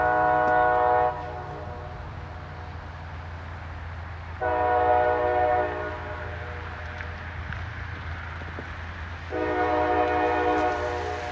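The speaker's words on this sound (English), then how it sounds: "here comes the train" A CSX freight train horn sounds three times, each blast about a second long, over a steady low rumble of rolling freight cars in snow.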